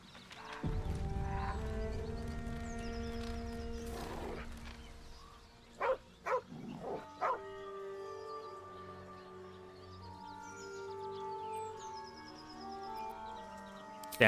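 A dog in Baldur's Gate 3 gives a quick run of four or five sharp barks midway through, set against sustained in-game music tones that play throughout.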